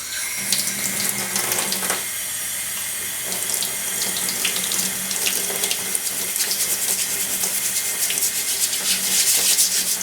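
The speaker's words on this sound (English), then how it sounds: "I'm just here in the laundry sink, and I'm going to just use a vegetable brush to scrub the cane" Water pours loudly and continuously from a tap into a laundry sink while sugar cane is scrubbed with a vegetable brush, a close steady rush with bursts of splashing and scrubbing, no talk.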